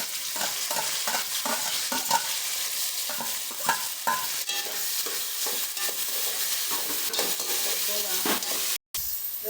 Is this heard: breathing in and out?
no